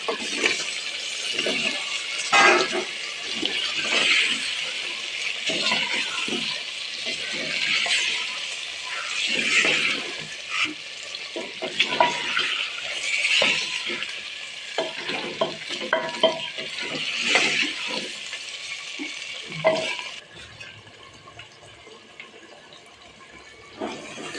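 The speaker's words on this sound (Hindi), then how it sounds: "और तो भून चुका है, अब आलू डाल रहे हैं।" Potatoes stirred into a frying meat curry (aloo gosht) in a pot, giving a long steady sizzle with repeated scraping spoon strokes and clinks, close and fairly loud, with no speech.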